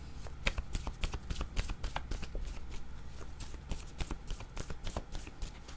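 Hand shuffling of a tarot deck, brisk repeated soft card slaps and riffles in an uneven rhythm, close up and quiet, with no voice over them.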